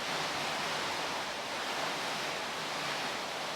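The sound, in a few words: rain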